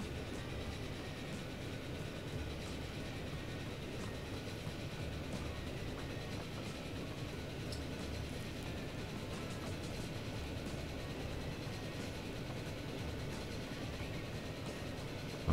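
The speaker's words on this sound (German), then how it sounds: "Da kommt der andere Zug" Train running in the rail simulation game Transport Fever, a steady even rumble with faint rail clatter, continuous and fairly loud the whole time, no talking.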